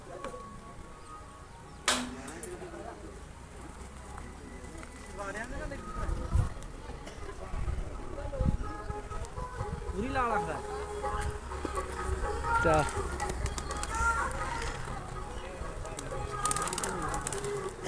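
Soft pigeon coos come and go in the background while people talk nearby, with a few sharp knocks and scattered rustling.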